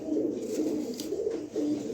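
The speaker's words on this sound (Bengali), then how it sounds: "তো কবুতর খাঁচার ভিতরে থাকতে চায় না, খালি সামনে চলে আসে" Several pigeons kept in a cage coo steadily close by, a low continuous murmur of overlapping calls with no talking.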